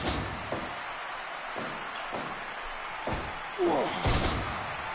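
In a wrestling video game, a wrestler is slammed to the mat by a gut wrench suplex, producing a series of dull, spaced thuds and impacts, with a heavier crash near the end.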